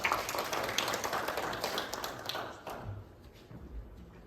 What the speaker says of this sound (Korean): 한 번 더 우리 박수로 함께 환영하겠습니다.